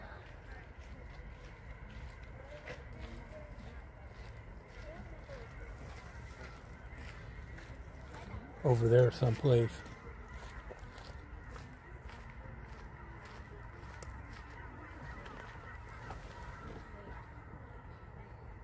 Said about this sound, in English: Just heard a big flock of birds.